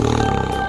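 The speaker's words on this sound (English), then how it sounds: "Tiger." A tiger roars briefly and loudly, a short, harmonically rich growl from a toy or cartoon-style animal sound set.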